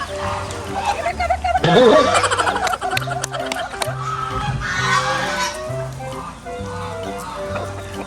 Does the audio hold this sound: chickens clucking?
yes